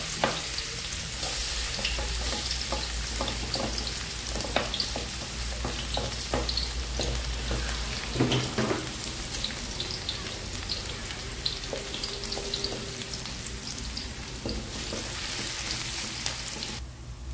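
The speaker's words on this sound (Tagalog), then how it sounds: "So, mainit na yung ating mantika. Lagyan natin yung ating garlic." Minced garlic dropped into hot cooking oil for a Filipino sotanghon stir-fry, sizzling and crackling steadily at close range, with scattered pops and stirring sounds throughout and no talking.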